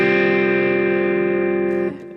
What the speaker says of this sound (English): It's an F with an added G on it,